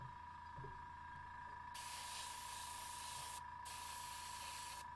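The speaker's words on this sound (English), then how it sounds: "Just spray in the center and let the overspray do the rest of the work for you." Airbrush or spray can painting a Mechanicum Ordinatus Sagittar miniature model, a steady continuous hiss in two long bursts separated by a brief pause, close and fairly loud over a faint steady hum.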